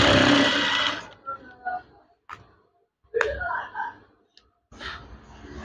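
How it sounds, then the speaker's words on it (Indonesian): A sewing machine stitches a curtain folded into three layers, a short loud burst of whirring up front and then quieter intermittent runs, with speech in between. "Jahit saja."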